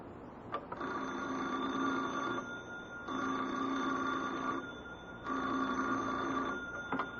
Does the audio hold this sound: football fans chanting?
no